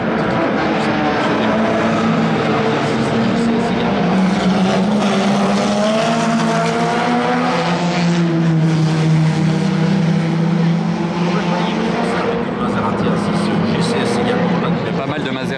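Historic racing cars roar continuously along the straight at the Monaco Historic Grand Prix, a loud sustained engine drone that swells and sweeps in pitch as they pass, with a commentator's voice running over it.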